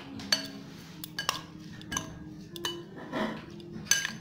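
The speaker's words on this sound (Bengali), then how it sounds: "এবার এটাকে আমি মিক্সড করব।" A spoon clinks and scrapes against a bowl while aloo chaat is stirred together with tomato sauce, making soft irregular taps and a few sharper metallic clinks, close and quiet.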